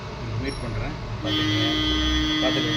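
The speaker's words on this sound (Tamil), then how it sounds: "ஹார்ன் அடிக்கிறாங்க வெளியில்" Outside, a car horn sounds with a steady, sustained tone that holds to the end, while someone talks indoors.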